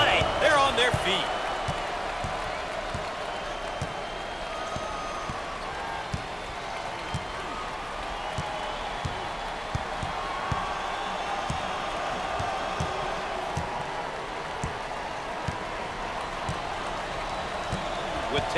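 A home crowd roars in the NCAA Basketball 10 video game during a Wake Forest vs Clemson game, a steady wash of cheering under continuous commentary voices, with occasional ball bounces and sneaker thuds.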